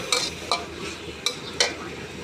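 Stir-frying a canned fish and holy basil dish in a pan, with four sharp spatula scrapes and clacks spaced out over a soft, steady sizzle.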